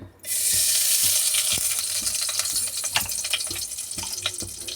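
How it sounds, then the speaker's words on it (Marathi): Ghee goes into a hot pan while making carrot halwa, giving a steady, close sizzle and frying hiss that runs throughout, with a few soft clinks and stirring knocks. "आता मी 1 चम्मच घी टाकते."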